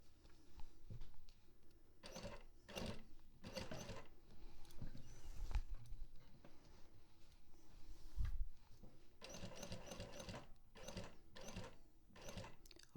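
A sewing machine stitches a zipper pocket with a window facing, giving faint, short bursts of mechanical whirring and ticking with pauses and handling noise between runs.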